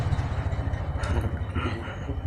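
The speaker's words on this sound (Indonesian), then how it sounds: "Sekarang malam minggu jadi banyak motor lewat" Motorcycles passing on a street on a Saturday night, a low, rumbling engine drone with uneven swells and a few faint higher whines, moderately distant.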